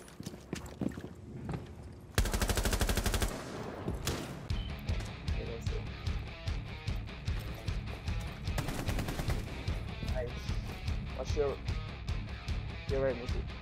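Gunfire from Rainbow Six Siege shooting through a wall, with loud bursts of automatic fire followed by a rapid series of repeated shots, under excited voices.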